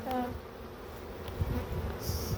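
Faint, steady buzzing of many honey bees inside a hive during a late-winter inspection fills the background, a low continuous hum with no talking.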